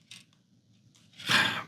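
Scissors being handled and cutting material at a dollhouse workbench, a few short close snips followed by a louder, longer cutting rasp.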